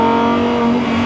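An ABT XGT race car's V10 engine accelerates hard, a loud, close, sustained roar with a steady high-pitched tone throughout.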